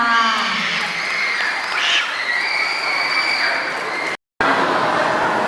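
Loud, sustained applause from a large crowd, dense clapping filling the room before a brief cut and then continuing.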